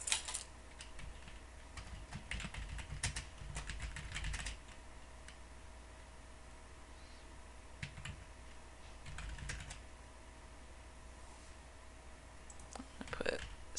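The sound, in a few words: computer mouse clicking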